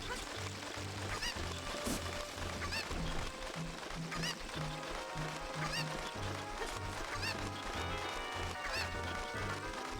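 Cucco birds in Zelda Ocarina of Time cluck and squawk in repeated bursts over game music, fairly loud and busy throughout.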